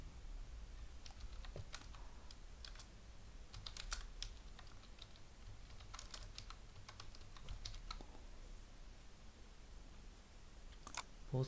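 Typing on a computer keyboard to enter a template name, a quiet close run of irregular key clicks and taps throughout, with no talking.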